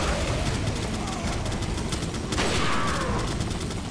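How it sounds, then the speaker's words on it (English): Gunfire from the video game Resident Evil 4 on PS4, steady dense shooting and action noise filling the whole stretch with a sharper burst midway, loud and continuous under game sounds. "Shoot him in the head, and he will die very fast."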